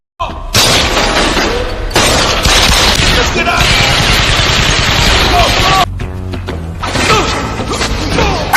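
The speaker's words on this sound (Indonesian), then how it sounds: "terjadilah adu tembak, serta diikuti baku hantam" Film gunfight, a dense, loud mix of rapid gunshots, bursts of automatic fire, booms and crashing impacts, with brief lulls between volleys and some voices in the action.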